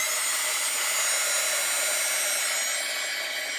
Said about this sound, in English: I'm gonna take the heat gun again.